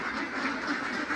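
Ducks quacking on a Bangladeshi duck farm of about 250 birds, a close, continuous run of overlapping nasal quacks filling the whole moment with no talk.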